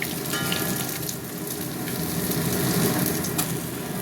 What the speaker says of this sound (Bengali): হয়ে গেছে মাছ ভাজা